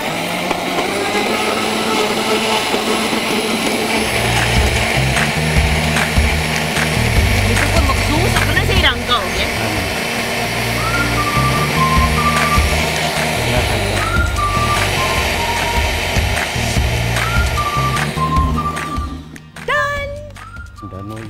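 A blender whirs loudly and continuously for a long stretch, with people talking over it, before the motor winds down near the end.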